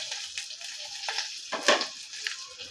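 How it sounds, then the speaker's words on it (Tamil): Mustard seeds, fenugreek, dried chillies and curry leaves fry in hot oil for a rasam. The result is a close crackling sizzle with sharp pops and spits that burst out in brief flurries. "கடுகு வெந்தயம் பொரிஞ்சிச்சு அது கூட வத்தல் கருவேப்பிலை சேர்த்துக்கிறேன்"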